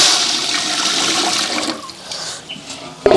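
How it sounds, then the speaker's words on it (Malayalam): Water pours into a cooking pot while making a watermelon dum biryani, four cups for two cups of rice, as a loud, steady gush that thins out, then a short splash at the end. "രണ്ട് കപ്പ് അരിക്ക് നാല് കപ്പ് വെള്ളമാണ് കേട്ടോ നമ്മൾ ഒഴിക്കുന്നത്"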